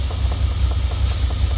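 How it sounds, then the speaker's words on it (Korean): Blow-by gas puffs from the open oil filler cap of an idling car engine with a suspected bad piston, a rapid, steady rhythmic pulsing over a low engine rumble. "그 프로바이 가스가 맥동적으로 나오죠."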